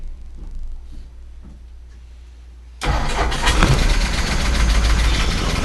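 A long-idle 454 boat engine, unused for ten years, cranks faintly for a few seconds, then abruptly fires and settles into a loud, steady, rough running roar.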